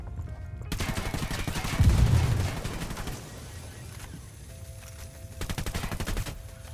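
Automatic gunfire rattles in rapid bursts in the shooter game Ghost Recon, with a heavy boom near the start and later volleys, loud and close, no speech over it.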